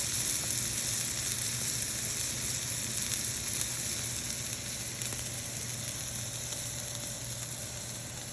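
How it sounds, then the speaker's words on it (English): Steady, crackling sizzle of steak searing in a hot pan, continuous and fairly loud throughout with no voices. "We want to hear the sizzle of the steak."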